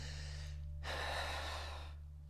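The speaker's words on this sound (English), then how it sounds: "If you take a deep breath, it's" A deep breath demonstrated through the nose, one long audible inhale close to the mic over a low steady hum, no talk.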